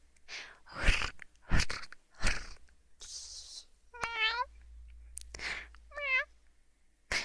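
A person imitates a cat meowing in a soft ASMR setting, two short wavering meows between whispered, breathy speech, close and quiet with gentle mouth sounds around them.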